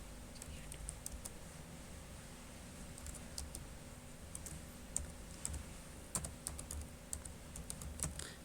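Item names are typed into an Excel spreadsheet on a computer keyboard, a quiet run of irregular key clicks in bursts against faint room hum.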